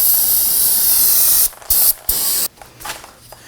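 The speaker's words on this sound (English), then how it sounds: "get sprayed down with some solvent." Solvent hisses from an aerosol can onto the rear wheel hub of a 2018-2024 Toyota Camry during a brake job, one long close spray followed by several short bursts.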